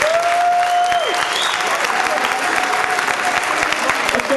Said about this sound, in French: applaudissez-nous notre petit Rémi